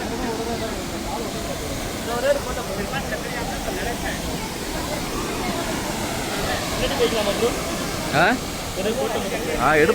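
Athirappalli waterfall in India roars as a steady, broadband rush close by, continuous for the whole stretch, with voices talking over it now and then.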